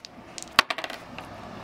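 Dice tossed onto a table during a tabletop game: one sharp clack, then a quick, fading run of small rattling bounces, heard close and alone.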